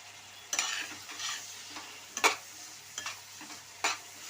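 Chopped tomato and turmeric are stirred in a pan, making a few soft scraping strokes with a faint sizzle underneath, spaced at irregular intervals, close by and fairly quiet.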